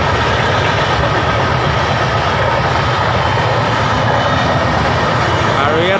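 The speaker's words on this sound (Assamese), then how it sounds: "ট্ৰেইনখন গৈছে দেখিছে" A large train roars past close by, next to rice paddy fields being harvested, producing a loud, unbroken rumble that fills the whole stretch without easing.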